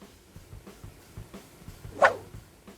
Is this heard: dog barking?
yes